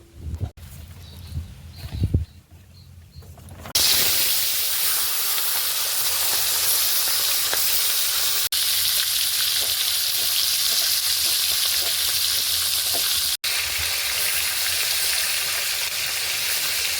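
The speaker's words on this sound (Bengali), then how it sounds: "কড়াইতে একটু তেল দিয়ে দিল মাছ ভাজার জন্য" Fish fries in hot oil in a wok: after a few seconds of quiet clatter, a loud, steady sizzling hiss sets in and carries on without a break.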